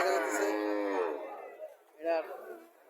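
A Sahiwal bull calf at a cattle market gives a long, drawn-out moo and then a second shorter one, fairly close, with faint background voices.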